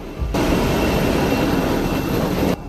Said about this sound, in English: Sunday morning, the presidential plane lands in Athens.